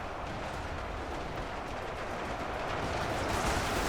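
German gunners in UEBS 2 fire in a dense, continuous roar of massed gunfire during an Allied beach landing at sunrise, loud and rumbling throughout with no pauses or voices.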